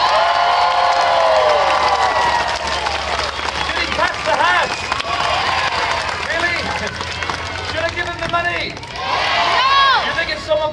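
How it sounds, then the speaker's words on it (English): A crowd at the Waterloo Buskers Festival cheers and shouts around a street performer, with excited voices, children's cries and scattered clapping layered over a busy outdoor din, while a performer's amplified voice talks over it. "As long as I hear all of you cheering for him loud enough"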